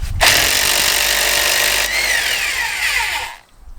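A cordless electric impact wrench loosens a lug nut, one sustained loud whirring burst of about three seconds with a rising then falling whine before cutting off into quiet.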